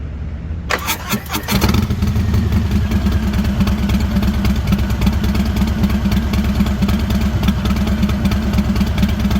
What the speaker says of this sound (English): start the bike so you guys can hear how it sounds from a distance